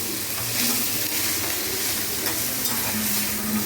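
Dry fruits and roasted makhana are stirred in a frying pan, giving a continuous close sizzle with scraping stir sounds and occasional rattles of the mixture against the pan.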